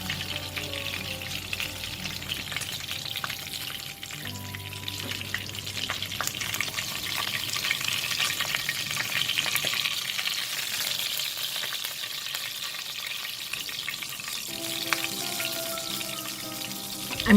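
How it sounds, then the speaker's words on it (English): Fish marinated in soy sauce and garlic frying in hot oil, a continuous close sizzle and crackle with occasional utensil scrapes and clinks, steady and unbroken with no talk. "let's remove the fried fish from the hot oil"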